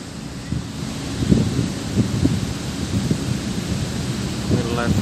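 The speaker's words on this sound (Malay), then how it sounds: "angin begitu kuat" Strong wind buffets the microphone at the PLTU Tenayan Raya power plant in Riau, a loud continuous low roar with gusty swells throughout, alone without voices.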